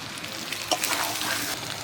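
Water is added to a hot pan of sizzling mutton kosha, giving a broad, hissing sizzle that swells briefly with a sharper burst near the start, heard up close with no talking.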